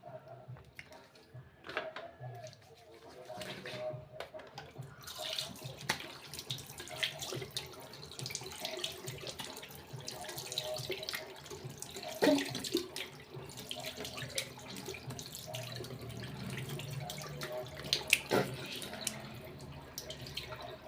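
A bathroom sink tap runs while someone washes their face, a soft continuous water stream with splashing and wet hand sounds, quiet and close, occasionally shifting in intensity.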